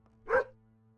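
Dog in the game Chronicles of Myrtana: Archolos giving a single short, clear bark, up close and alone over a faint steady hum.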